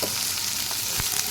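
Vegetables for sago khichuri sizzle and fry steadily in a hot pan, a continuous close crackle with a faint stir or two.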